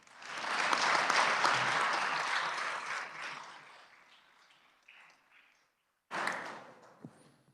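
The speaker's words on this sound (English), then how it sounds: "Please give them a round of applause." Senators and guests in a state Senate chamber applaud visiting middle school students. The clapping swells, fades out over several seconds, then gives way to a brief burst of room noise after a short silence.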